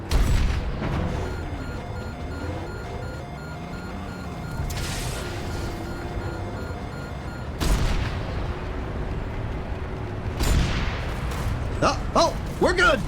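Gunfire from the shooter game Planetside 2, with a few sharp, loud booming shots spread several seconds apart over a steady background rumble. A voice can be heard talking between the shots.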